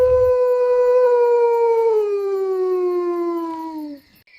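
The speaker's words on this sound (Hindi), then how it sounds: "वह भी जोर जोर से हुंकार देने लगा" A blue jackal in an animated story lets out one long, loud howl that holds steady, then slowly falls in pitch over about four seconds before cutting off, heard alone and close.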